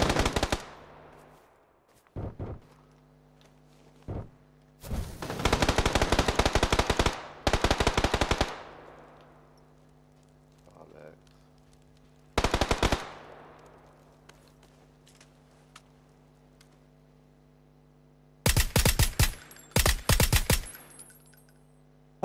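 Bursts of automatic gunfire in PUBG, several loud sustained volleys separated by quiet gaps, with a few single shots and faint background hum, no talking.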